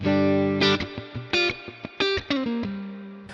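Clean electric guitar tone through a HoTone Ampero Stomp with delay plays a sequence of ringing notes and chords, each attack trailing into a shimmering sustained tail.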